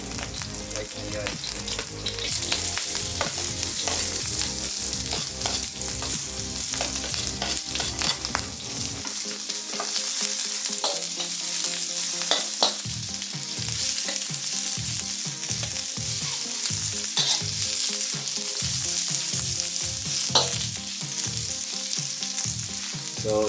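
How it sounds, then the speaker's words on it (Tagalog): White onion sizzles and fries in rendered pork oil with a steady crackling hiss, broken by close scraping and clinking as it is stirred in the pan. "pag render natin yung oil, ilagay natin itong white onion."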